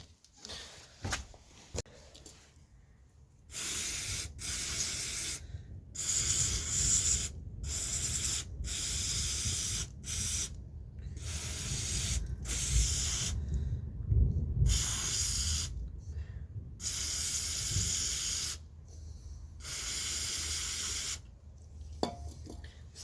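Aerosol spray cleaner flushing debris out of a Ford Focus ignition lock cylinder, a series of close hissing bursts of varying length separated by short pauses, with handling noise between them.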